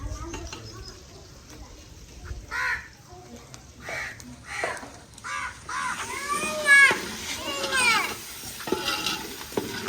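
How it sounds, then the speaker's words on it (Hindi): Several crows caw repeatedly at a distance over a faint sizzling background, their harsh calls growing busier and overlapping in the second half. "उधर देखें कौवे लाड़ रहे हैं, बहुत सारे आए हुए हैं"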